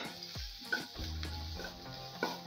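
Garlic paste and ginger hit hot groundnut oil in a heated kadhai for a tempering, a steady sizzle broken by a few sharp pops and the scrape of a spoon stirring, with no talking.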